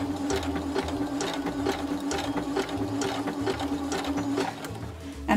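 Sewing machine stitching scalloped edges on a quilt, a steady close rapid needle clatter running continuously with a low motor hum beneath.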